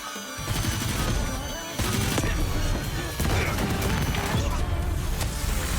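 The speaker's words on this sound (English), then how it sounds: "So many explosions." Loud, relentless blasts and crashing booms pile up in a dense, continuous barrage with no pauses.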